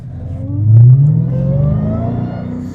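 A Dodge Challenger Hellcat's 700-plus horsepower engine revs once, close and loud, climbing to a peak and then holding a deep, rumbling drone as it settles.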